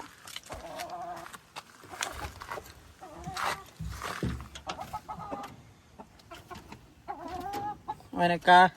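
A calm hen with a leg problem clucks in short bursts close by, with a few sharper squawks near the end and quiet pauses in between.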